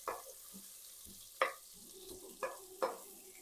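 Onion sautés in a pan for veg biryani, with soft sizzling under a few sharp spoon-against-pan scrapes and stirs, close and fairly quiet.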